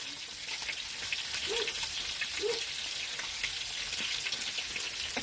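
Fritters frying in a pan give a continuous fine crackling sizzle, soft and steady, with a couple of faint low knocks and no talking.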